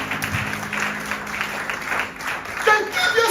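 A church congregation claps and cheers together during a sermon, with steady broadband applause lasting throughout and a louder swell near the end.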